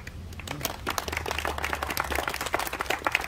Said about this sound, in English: They deserve a bigger round of applause